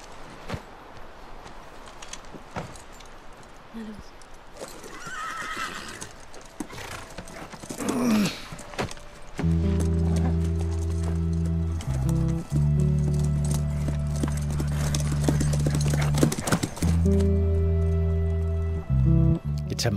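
Horses in The Last of Us: hooves clip-clop steadily along while a horse whinnies and snorts nearby, with game ambience and a low musical drone joining partway through.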